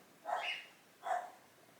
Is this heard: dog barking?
yes